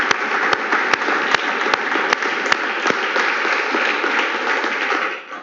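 A church congregation applauds steadily through a Sunday service, loud and dense throughout with a few sharper individual claps standing out, with no speech over it.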